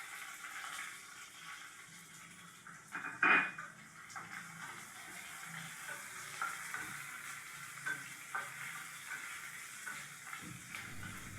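Green chillies and onion frying in a pan for a brinjal and chana dal curry, giving a soft, steady sizzle with one sharper clatter of stirring early on, quiet and close, with no talking.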